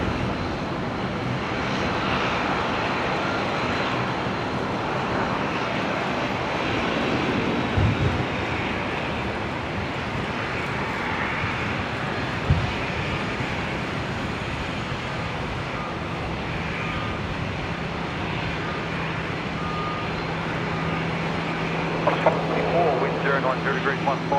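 Rex regional airliner taxiing out at Brisbane Airport, a steady low engine drone that carries on throughout, with a person talking over it.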